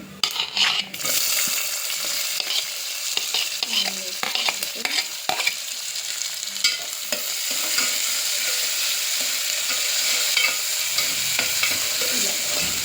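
Masala and onion frying in oil in a pan, a loud close sizzle with scraping stirs and clattering of a spoon on the pan, the hiss steadying into a continuous crackle toward the end.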